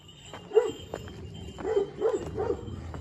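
A herding dog in a Turkish village gives a few short barks and yips at a moderate distance, scattered over a quiet outdoor background.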